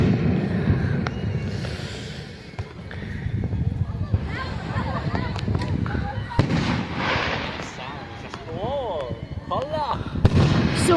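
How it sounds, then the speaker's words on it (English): Fireworks show in the Sonic Adventure video game, a string of bursts, crackles and booms scattered through a busy mix, with voices talking over much of it and some whistling rises toward the end. "Oh my God. The fireworks."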